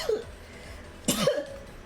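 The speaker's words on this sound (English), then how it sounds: "Sorry for all the coughing." A single harsh cough bursts out near the mic, short and loud, against a quiet background with a faint breathy sound just before it.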